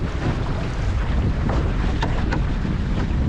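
A sailboat under a reefed mainsail moves through open water, with heavy wind buffeting the microphone over a constant low rush of water and a couple of faint creaks.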